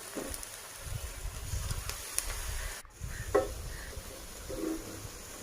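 Cauliflower pakoras coated in rice flour frying in hot oil, a steady low sizzle with occasional stirring clinks and scrapes, close and fairly quiet, with no talk.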